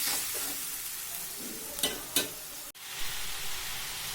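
Masala of onion, ginger, garlic, dry red chili and salt frying for a small-fish chorchori, sizzling steadily up close with a couple of sharp utensil scrapes and a knock in the middle.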